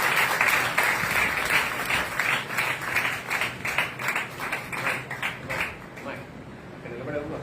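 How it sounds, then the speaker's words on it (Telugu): An audience at a women's meeting claps to welcome a sermon speaker, a rhythmic run of handclaps pulsing steadily for several seconds before thinning out, with some crowd murmur mixed in. "అందరం కూడా చప్పట్లు కొడుతూ వారిని ఆహ్వానిస్తాము."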